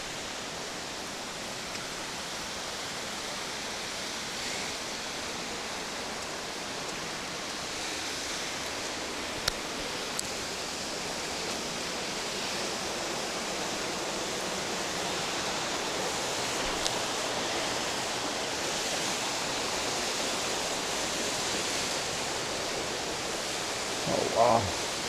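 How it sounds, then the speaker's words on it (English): Steady broadband rush of a waterfall in a rainy mountain valley in Hinohara village, Japan, a constant roar with no pauses and a brief louder bump near the end. "So I guess we're gonna find the source of the waterfall."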